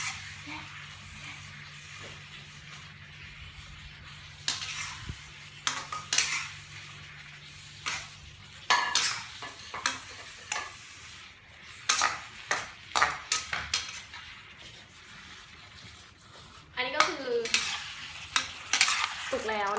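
Squid and holy basil stir-fry in a hot pan, with sizzling under repeated scraping and clanking of a spatula against the metal, the strokes coming in irregular bursts, close up and without speech.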